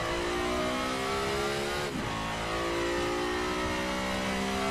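Race car in the Need for Speed Shift 2 video game accelerating at full throttle, a loud, steady engine roar whose pitch climbs in rising harmonic sweeps after a brief dip mid-clip, heard alone with no talking.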